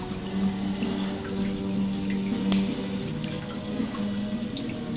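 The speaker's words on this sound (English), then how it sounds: "The water pressure has to build up a little bit at the top, and then once it does, the siphon starts." Water drains through an aquaponics siphon and spills down a small cascade, a continuous close splashing and gurgling flow with a low bubbling undertone and a brief sharper splash midway.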